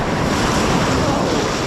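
Rough ocean surf pushing in near high tide on a shelling beach, a continuous loud wash of breaking waves with steady wind noise buffeting the microphone close by.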